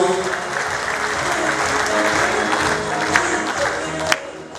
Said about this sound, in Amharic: አጨብጭቡላቸው ሞራላችሁ